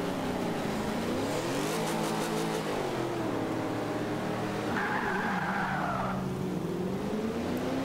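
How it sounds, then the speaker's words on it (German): Engine revving with squealing, skidding tires during a light burnout of a race car in Forza Motorsport 5, loud and continuous with a rising high-pitched screech near the end, no talking. "Leichter Burnout."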